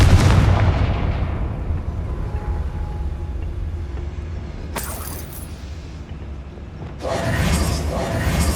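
In Hogwarts Legacy, a Confringo fire spell goes off as a booming blast that slowly rumbles away. A sharp crackling burst follows, then a second noisy eruption near the end, all loud and close.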